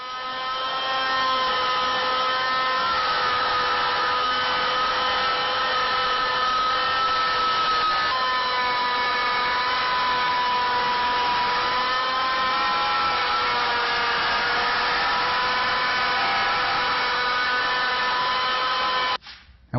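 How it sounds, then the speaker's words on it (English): A wooden candlestick spinning as a half-inch tenon is cut into it, giving a steady, loud droning whine with a faint scraping edge that holds evenly for nearly twenty seconds before cutting off abruptly, no talk. "Now we'll cut the 1/2-inch tenon at this point right here."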